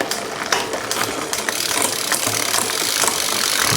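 Ratcheting, clicking mechanical noise from the rear derailleur of a GRX gravel bike shifting toward a large sprocket, close, with sharp ticks over a continuous whir from the spinning drivetrain.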